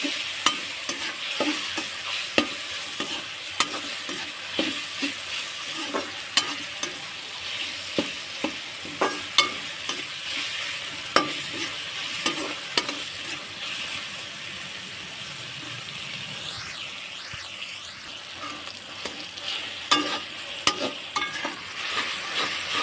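Tomatoes fry and get stirred in a pan for Maggi pasta, a soft steady sizzle under repeated scraping strokes of a spoon against the pan, close and fairly quiet, with no talking.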